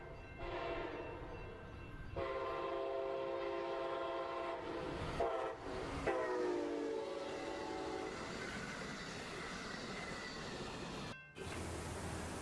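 A passing passenger train rumbles loudly nearby with a long, sustained horn blast that shifts pitch, over a constant heavy rolling roar.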